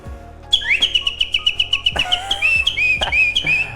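Loud, close whistling in rapid shrill pulses, then sliding warbled phrases, sounding much like a songbird's trill.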